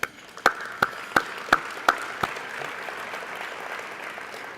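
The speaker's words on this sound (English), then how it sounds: "Let's give us an applause for that." Audience at a 2016 gala ceremony breaks into applause, about six sharp clap bursts in the first half that thin out into a fading patter.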